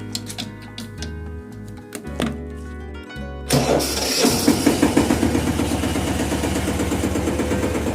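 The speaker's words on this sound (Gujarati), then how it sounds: "આપણે ટ્રેક્ટર જરાક ચાલુ કરી દઈએ" Close by, a tractor engine is cranked and catches, then settles into a loud, steady, rhythmic chugging run that continues to the end.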